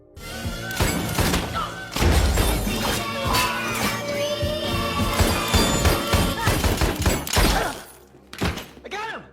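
Loud, chaotic bursts of gunfire from a film shootout, with thuds and crashes, dense and overlapping for several seconds, ending with a few scattered sharp bangs.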